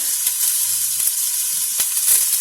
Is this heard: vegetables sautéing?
yes